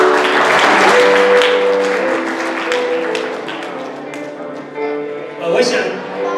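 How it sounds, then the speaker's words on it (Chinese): Applause at a graduation ceremony, with a room of people clapping together under a sustained tonal hum and a speaking voice, the clapping continuing steadily and swelling briefly near the end. "我们拍手，"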